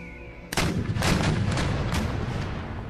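Musket volleys and howitzer artillery in Empire Total War during a siege of the Dutch capital: a sharp, loud report breaks out, followed by a dense run of overlapping shots and booms that keeps rolling steadily.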